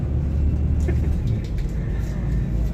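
Steady low rumble of city traffic in Kuwait City, heard from aboard a double-decker bus at night, a continuous engine and road drone with faint passing vehicles.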